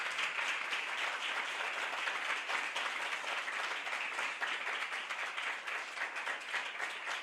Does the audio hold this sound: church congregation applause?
yes